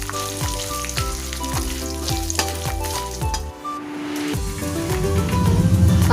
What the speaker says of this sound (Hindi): उड़द दाल को भी ऐड कर देंगे। इसे मीडियम फ्लेम पे थोड़ा सा हम भूनेंगे